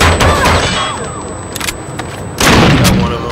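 A frag grenade blast in Rainbow Six Vegas 2, a loud booming explosion near the start and another heavy burst later, with rumbling debris and gunfire-like cracks between.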